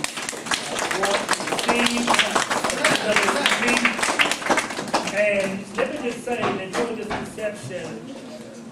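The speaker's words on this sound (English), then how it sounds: "we want to give her another round of applause" Round of applause from a church congregation, dense clapping from many hands running steadily and slowly thinning, with a voice talking over it.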